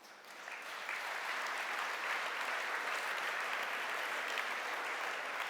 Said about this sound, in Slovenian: dajte en lep aplavz za Ano Čepar iz MČM Young.